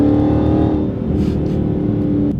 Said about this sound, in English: You mash the throttle, you get a brilliant exhaust coupled with the whine of the engine.